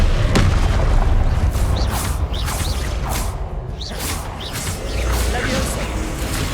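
Explosive Confringo spell going off in Hogwarts Legacy combat: repeated booms and swooshing whooshes layered over a dense, constant wash of game sound, loud and close throughout.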